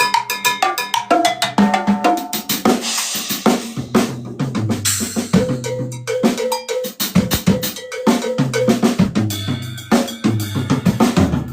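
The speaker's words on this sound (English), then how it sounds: "So that's just a double paradiddle" A drummer plays a double paradiddle sticking pattern with dense, rapid strikes for about twelve seconds, bright cowbell-like and drum hits keeping an even, busy rhythm, loud and without speech.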